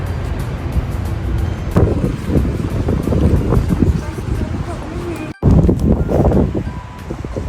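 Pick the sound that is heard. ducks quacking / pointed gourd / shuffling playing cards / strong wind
strong wind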